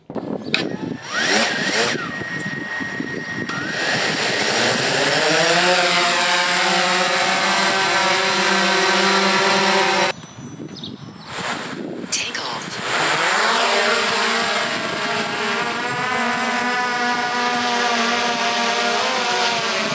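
A DJI Air 2S drone flies nearby, its motors giving a steady high-pitched buzz with shifting tones as it manoeuvres, cutting out briefly midway before resuming.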